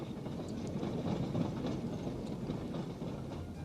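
Battery-driven train rumbling slowly through a London Underground tunnel while delivering 300-foot lengths of rail, a steady dense low roar with faint rattling that stays loud and even throughout.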